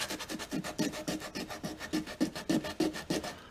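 Emery cloth is rubbed back and forth over a plastic gas tank, a steady rhythmic rasping with about a dozen even strokes, close up and moderately loud.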